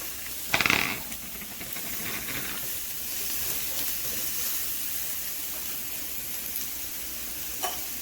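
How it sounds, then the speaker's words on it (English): Onions sauteing in olive oil in a pan for a garlic and herb steak, a steady close sizzle and hiss with a brief louder burst of crackle near the start, then an even frying hiss throughout. "And we're going to put the onions in there, let them saute for a little bit."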